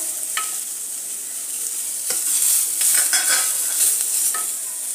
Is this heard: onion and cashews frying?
yes